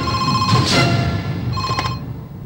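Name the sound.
telephone ringing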